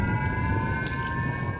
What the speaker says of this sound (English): At the sound of the siren,